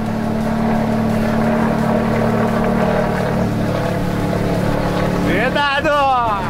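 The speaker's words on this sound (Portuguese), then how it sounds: "Olha o freio motor." A new FH truck's engine drones loudly and steadily with a deep rumbling engine-brake noise, while a voice talks over it and a rising whine appears near the end.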